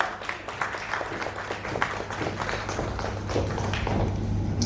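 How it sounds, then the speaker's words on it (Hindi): Audience applause breaks out at a media interaction for a Hindi TV serial's cast, a dense patter of many hands clapping that builds and holds steady, with no voices over it. "तो एक बार इनके लिए जोरदार ताली हो जाए"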